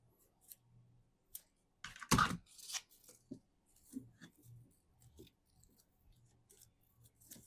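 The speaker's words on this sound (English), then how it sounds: "I do need to cut it because that's a lot of ribbon" Scissors snip through a length of gift ribbon, a quick close burst of sharp cuts and tearing rustle, followed by scattered light clicks and handling of small puzzle pieces at a quiet level.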